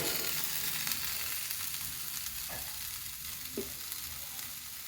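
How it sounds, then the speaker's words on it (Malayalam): Chicken is stirred in a hot pan, a fairly quiet, even frying hiss with occasional soft scrapes and a faint click from the spoon. "നമ്മളെടുത്ത് വെച്ച ചിക്കനും കൂടെ കൂട്ടിയിട്ട് നല്ലോണം ഒന്ന് ഇളക്കി കൊടുക്കാം കേട്ടോ"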